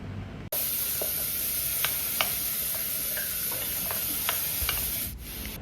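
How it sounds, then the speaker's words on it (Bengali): Chopped beetroot with urad dal, a dried red chilli and curry leaves sizzling steadily in a pan while a spoon scrapes and stirs in a few sharp, irregular clicks, close up with no voices. "আর একটা শুকনো লঙ্কা এইভাবে কেটে কেটে দিয়ে দেবো। আর সঙ্গে সঙ্গে দিয়ে দেবো উড়দ ডাল একটু, আর কারি পাতা, আর একটু ভালোভাবে নাড়াচাড়া করে নেব।"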